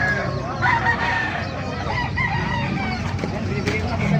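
Roosters crow and chickens cluck amid the bustle of a busy chicken market in Bocaue, Bulacan, with several birds calling at once over a dense, continuous crowd din.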